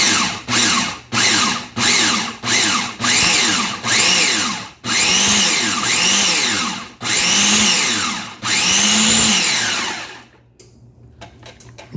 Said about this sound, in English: just keep pulsing it up until it's nice and uniform